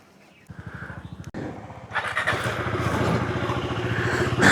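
A KTM Adventure 390 motorcycle pulls away on a ride out of Delhi toward Shimla, its engine thumping in a steady low rhythm that builds louder and rougher as it accelerates, close by.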